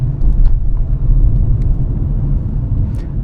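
A 2026 Renault Duster with a 1.3-litre 163 PS engine and manual gearbox on the move, a loud steady low rumble of engine and tyres on the road heard from inside the cabin, no voices.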